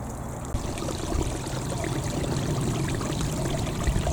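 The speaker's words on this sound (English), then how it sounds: "I love that sound. Beautiful little mountain stream like this" A small mountain stream trickles and pours steadily over rocks in open moorland, a continuous close, soft rushing with no voices.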